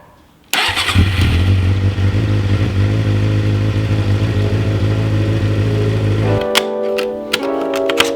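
Suzuki GSX-R 600 motorcycle engine cranked by the starter and running, a sudden loud mechanical clatter with a steady low rumble that stops abruptly after about six seconds, followed by a few clicks.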